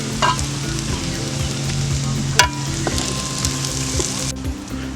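Onions sauté in a pan for Kerala-style chicken kurma with a loud, continuous sizzle. Repeated rhythmic stirring scrapes run through it, with a sharper knock midway.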